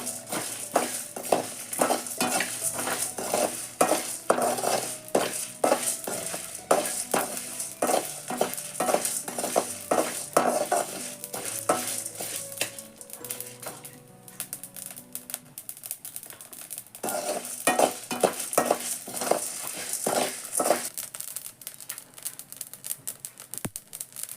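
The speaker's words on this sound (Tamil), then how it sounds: "மிளகு சீரகம் போட்டுக்கலாம் இது எல்லாத்தையும் இப்போ பொண்ணு நிறமாக வறுத்துக்கிறோம்" Black pepper and cumin seeds dry-roasted in a pan in village-style outdoor cooking, with steady scraping and rattling stirring strokes and a crackling toast, nearby and fairly quiet, pausing briefly midway before resuming.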